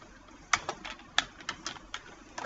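A computer keyboard clatters in a handful of separate keystrokes, a couple of sharper clicks among lighter taps, close and uneven, with no talk.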